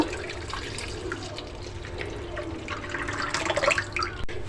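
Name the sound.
milk being poured into a bowl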